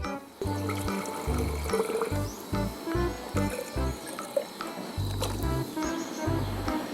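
Water pours steadily into the cooling tank of a plastic-waste pyrolysis rig, a continuous splashing rush with heavy low thumps and clanks mixed in.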